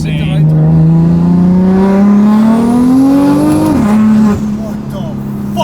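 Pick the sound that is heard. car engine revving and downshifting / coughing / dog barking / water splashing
car engine revving and downshifting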